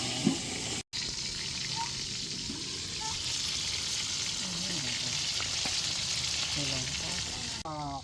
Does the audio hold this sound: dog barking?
no